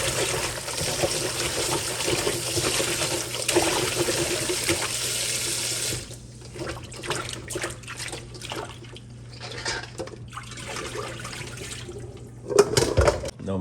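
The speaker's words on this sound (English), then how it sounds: "You rinse it off with cold water." Cold tap water runs steadily over salt mackerel in a sink, a loud continuous rush for several seconds before softening into uneven splashing and trickling as the fish is rinsed.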